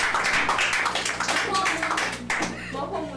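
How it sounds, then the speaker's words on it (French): An audience at a reading contest claps in a burst of dense applause that thins and fades over about three seconds, with voices talking over it. "On applaudit."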